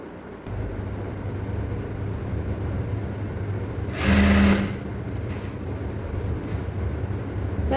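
A sewing machine runs steadily while stitching palazzo pant fabric during tailoring, its whirring hum close and even, with a brief louder burst of faster stitching midway.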